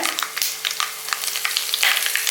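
Chana dal frying in hot oil with green chillies added, a loud, close, steady hiss dotted with sharp crackles and pops throughout, with no voices.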